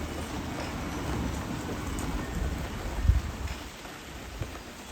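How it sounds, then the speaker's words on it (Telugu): Steady rain falls outdoors on a cloudy day, a continuous wash of hiss with a faint low rumble and a few louder spatters. "ఆ రోజు కొంచెం క్లౌడీగా అనిపించి ఫుల్ మబ్బేసుకొచ్చి సడన్గా వర్షం స్టార్ట్ అయిందనమాట."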